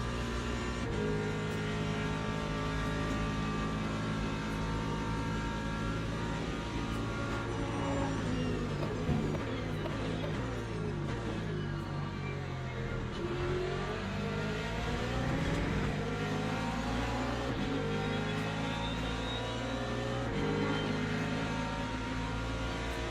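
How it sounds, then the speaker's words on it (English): Cars in the Le Mans Ultimate racing game during a Le Mans 24 Hours race, with hypercars closing in from behind: layered engine tones rising and falling in pitch as the cars rev and shift, continuous and loud, without talk. "Always a little bit nerve-wracking when the hypercars come up like that behind you."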